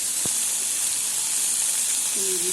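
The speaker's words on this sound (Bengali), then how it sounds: "তো আমি এইভাবে শুধু মাছটা ভাজছি।" Fish frying in a pan over a low flame in a thin film of oil, a steady bright hiss and sizzle close by, with a faint tap early on and no talk.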